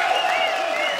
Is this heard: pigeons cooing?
no